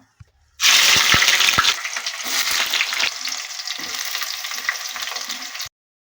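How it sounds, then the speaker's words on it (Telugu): Sliced onions drop into hot tempering oil for a chicken curry and burst into a loud, steady sizzle that settles into a continuous crackling fry after the first seconds, with faint stirring clicks and no talk. "ఉల్లిగడ్డలు వేసుకుంటున్నా తాలింపులో"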